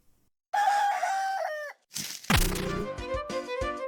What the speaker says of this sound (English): It was this chicken and we gotta chase after it.